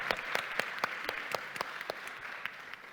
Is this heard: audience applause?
yes